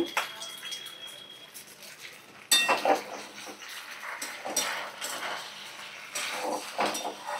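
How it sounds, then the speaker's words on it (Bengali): Pasta in a pan with egg and tomato ketchup is stirred, giving close, irregular scrapes and clinks of a utensil against the pan over a soft wet background, with a louder clatter partway through. "ভালো করে নাড়াচাড়া করে নেব।"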